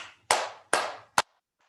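Three distinct hand claps during a self-massage demonstration, close and crisp with short ringing decays, the last one quicker and sharper, followed by a faint soft tap.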